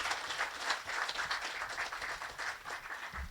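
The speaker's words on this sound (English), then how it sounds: "So round of applause for our team here at Yuma." A crowd at an outdoor military air station ribbon-cutting ceremony gives a sustained round of applause, many hands clapping steadily at a moderate distance.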